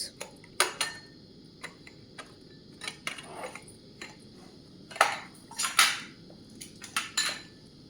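Walnuts and pumpkin seeds fry in a pan, and a utensil clinks and scrapes against the metal in scattered, irregular taps and rattles, close and fairly clear with no talking.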